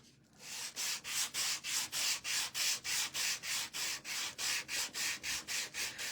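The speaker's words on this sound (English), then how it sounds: "we're gonna go ahead and sand the bunny after I said I wasn't going to" A chalk-painted wooden bunny being hand-sanded in steady back-and-forth strokes, about twenty even rasping passes, close and alone without talk.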